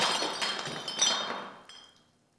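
Drinking glasses clink together in a toast, a bright ringing clash followed by a fading shimmer that trails off over about two seconds.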